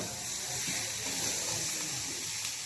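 Masala for chole bhaji roasts in a pan, giving a soft, unbroken hiss with faint crackling, close and even throughout.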